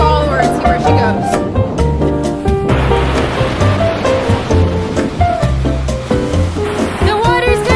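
Ocean waves wash in at Malibu beach as a steady rushing surf bed, largely covered by people talking and other voices nearby.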